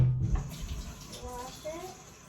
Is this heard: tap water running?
yes